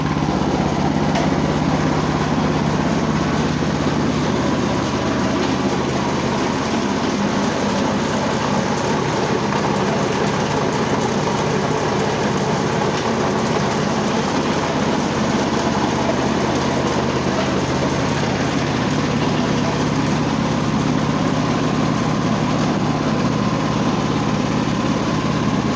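A Harbor Freight Predator 301cc engine on a Simplicity snowblower runs continuously inside a garage, a loud, steady, droning engine hum that echoes without pause.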